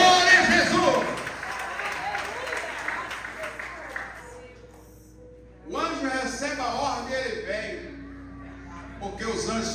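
A church congregation applauding, a dense wash of clapping that fades out midway, with speech heard over and after it.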